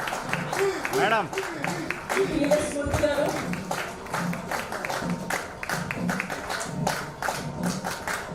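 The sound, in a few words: applause for Lakshmi Pavani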